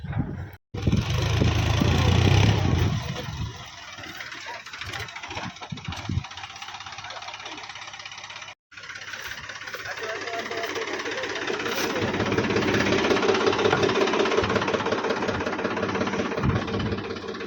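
A tractor's diesel engine chugs and rattles steadily nearby on a farm, its knocking rhythm continuous, with a brief cut-out midway before the running resumes.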